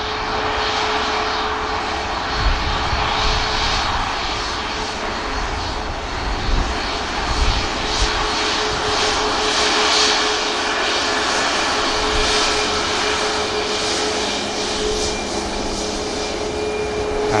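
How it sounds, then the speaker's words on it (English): An Airbus A321 touches down at Manchester Airport behind a Ryanair jet, its engines giving a loud, steady roar that holds without a break, with no voices. "321 touching down behind this Ryanair, lining up."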